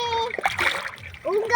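Water splashing as children bathe in the sea, with bursts of splatter between bright, high children's voices that talk and shout close by throughout.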